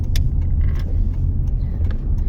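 Car interior while driving along a road, steady low engine and road rumble throughout with faint jingling, no talk.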